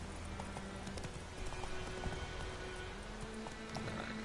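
Roach, Geralt's horse in The Witcher 3, gallops with quick, steady clip-clopping hooves over a dense ambient game background, moderately close and without talk.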